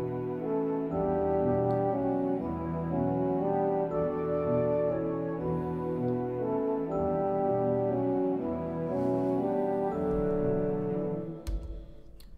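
Orchestral mock-up scored in Ravel-style parallel orchestration, a dense, sustained ensemble texture of stacked parallel chords moving steadily for several seconds, full and continuous with no talking.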